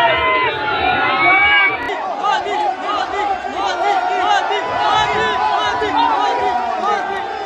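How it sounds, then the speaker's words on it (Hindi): Large crowd at a road show for Prime Minister Modi in Kanpur, a loud dense mass of many voices shouting and chanting continuously with steady cheering throughout. "रोड शो के दौरान भारी संख्या में भीड़ मौजूद रही और हर कोई मोदी जी के नारे लगाता रहा"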